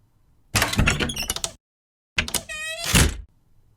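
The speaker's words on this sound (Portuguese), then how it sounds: "Shirley ouviu que a porta principal era aberta uma vez mais." A heavy main door swings open as a staged sound effect, with two loud bursts of creaking hinges, thuds and rattling latch separated by a brief silence.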